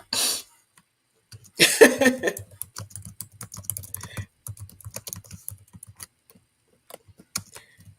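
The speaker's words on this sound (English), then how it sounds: "I'm typing it in" Rapid keyboard typing, close and steady, with brief pauses between bursts of clicking keys and a cough-like noise near the start.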